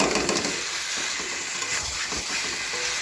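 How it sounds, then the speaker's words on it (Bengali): Chicken sautéing in oil in a pan for Bengali-style chicken kosha, a steady close sizzle and hiss with faint stirring scrapes, no talking. "এবার এটাকে সুন্দর করে কষাতে হবে কিন্তু"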